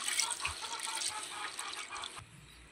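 One cup of chana dal is washed by hand in a bowl of water, with close sloshing and splashing in soft irregular bursts. The sound settles into a quieter trickle near the end, and no one speaks.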